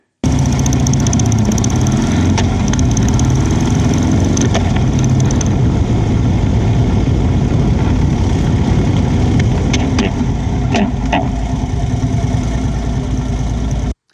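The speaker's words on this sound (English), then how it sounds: "I would continue the downshift until the motorcycle is almost at a stop" A motorcycle engine roars loudly up close, its pitch dropping in steps as it downshifts through an emergency stop, with wind buffeting throughout.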